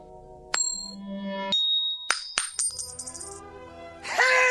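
A quarter is flipped and lands with several bright metallic rings and clinks, spinning and settling on a hard surface at close range before a louder rustle follows.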